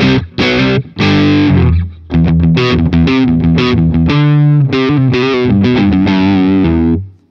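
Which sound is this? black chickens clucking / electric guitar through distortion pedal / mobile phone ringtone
electric guitar through distortion pedal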